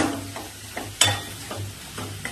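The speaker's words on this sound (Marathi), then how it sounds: "आता या तेलातच आपला मसाला छान परतून घेऊ आपण" Ground masala paste sautéing in oil for a Marathi dal and dhemse curry, with soft repeated stirring scrapes and a steady low sizzle, plus one sharper clack about halfway through. No one speaks.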